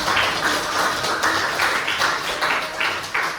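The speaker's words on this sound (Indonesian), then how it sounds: "Tepuk tangan sekali lagi." A school class claps after a lesson, a steady patter of many hands in a room, moderately loud with a few louder surges, no talking over it.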